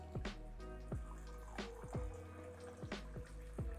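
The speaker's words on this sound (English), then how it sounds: "Can you hear the sound of the tea pouring?" Tea poured from a pot into a cup, a close liquid trickle with gurgling, bubbly drops and pitch sweeps as the cup fills, with no talking.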